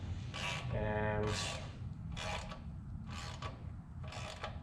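Valve cover bolts on a Ford 289 engine are turned by hand with a ratchet, giving close, quiet clicking bursts in an uneven series of about five short runs.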